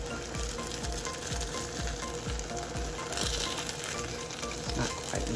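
A flipped egg sizzles steadily in a mini frying pan while breakfast sandwich parts cook, with small scraping and tapping sounds of the spatula repeating over the continuous hiss.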